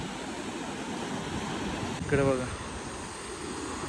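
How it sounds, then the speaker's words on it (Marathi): Sea waves wash onto Bhatye beach in Ratnagiri as a steady broadband roar with wind noise, a voice briefly speaking over it. "दर्याच्या लाटा."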